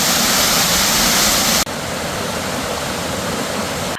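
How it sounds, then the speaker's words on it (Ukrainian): Narinetskyi waterfall in the Carpathian mountains roars as a loud, steady wash of falling water, brighter at first and then slightly duller after a brief cut. "Нарінецький водоспад дуже красивий."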